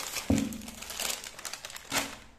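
Crinkling of a plastic packet of Haldiram namkeen snack, Punjabi Tadka mix, as it is handled and pulled open indoors: a few sharp, close crackling bursts separated by softer rustling, with no talk.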